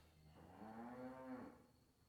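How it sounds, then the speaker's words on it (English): Cows lowing once in a long, drawn-out moo at moderate distance, rising and falling over about a second, with quiet background and no talking. "my cows are talking"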